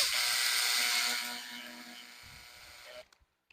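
A power drill fitted with a small bit whines loudly and steadily for about three seconds, its pitch sagging as it works, then cuts off, leaving a few faint clicks.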